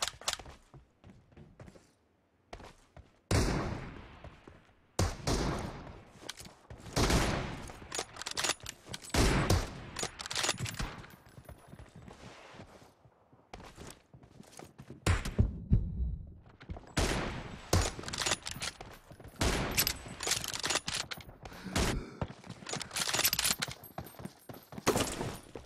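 Rapid bursts of automatic gunfire and single shots from a video game firefight, loud and close, coming in dense clusters with short pauses, with no talk over them.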